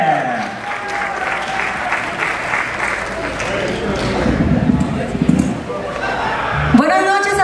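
Applause from a live audience greeting a singer at a mariachi show, a steady wash of clapping that runs the whole time, with voices and a few shouts mixed in and a brief sung or shouted phrase near the end.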